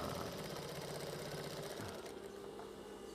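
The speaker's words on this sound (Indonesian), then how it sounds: "kita pindah lagi mesin untuk penjahitan badan bawah yang ada bordilnya" An industrial sewing machine stitching the embroidered lower body of a hat, a steady close mechanical whir with rhythmic needle chatter running throughout, with no talking.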